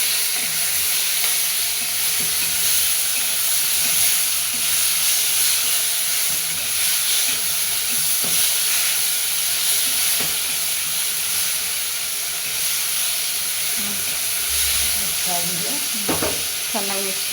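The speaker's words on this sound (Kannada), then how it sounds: "ಈರುಳ್ಳಿ, ಟೊಮೆಟೊ ಮಿಕ್ಸ್ ಮಾಡಬೇಕು ಚೆನ್ನಾಗಿ" Onion and tomato stir-fried in a pan, with a continuous loud sizzle and hiss under repeated scraping and stirring strokes, plus a few clinks near the end.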